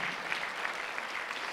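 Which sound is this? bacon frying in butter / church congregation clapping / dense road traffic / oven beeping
church congregation clapping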